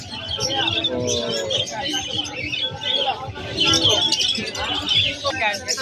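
Opaline-mutation pet birds in an aviary chirp and tweet in dense, overlapping bursts, a busy flock chattering steadily throughout with a voice faintly mixed in.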